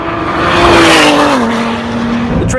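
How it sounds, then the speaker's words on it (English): A 2017 Ford GT's twin-turbo V6 engine pulls loudly and steadily while driving, its pitch dropping slightly as it shifts and settles, close and alone with no talk. "It may not be a V8, but it sounds a lot better than a V6 that shares the same block from the Ford F-150."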